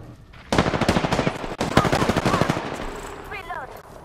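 Rapid automatic gunfire from the video game Apex Legends, dense bursts of shots up close and loud, briefly broken, with fainter game effects and chirps toward the end.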